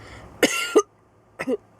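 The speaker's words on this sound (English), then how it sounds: "The cough is so deep down." A deep, chesty cough, two heavy bursts, a pause, then two more, close up with no talking.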